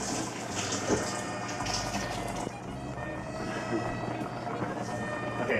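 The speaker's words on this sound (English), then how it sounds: "take a piece of bread here and I'm going to soak it with water and squeeze it really tight" Tap water runs steadily to soak a piece of bread for meatballs in a home kitchen, a continuous close hiss and splash with faint background noise.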